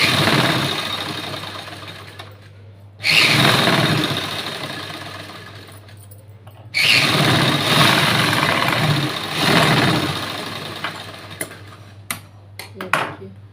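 Machine stitching a double seam on a button-front blouse sleeve, two bursts of steady mechanical whirring that start abruptly and fade, followed by a few short clicks and taps near the end.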